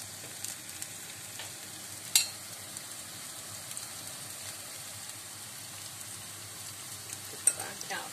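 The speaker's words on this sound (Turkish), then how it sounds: "Patlıcan kızartılınca daha lezzetli oluyor." Eggplant frying in olive oil in a pan, a continuous soft sizzle and bubbling, with a couple of sharp clicks or pops standing out above the steady hiss.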